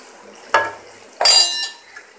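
Two clattering scrapes of a utensil against a cooking pot as bottle gourd bhurta is served out, short close clinks separated by quiet pauses, no speech.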